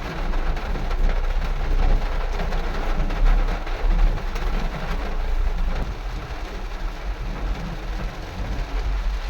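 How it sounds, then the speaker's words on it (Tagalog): Heavy rain pours steadily during a drive to Makati City, a dense continuous hiss with low rumbling underneath, loud and unbroken throughout. "Ay, lakas ng ulan."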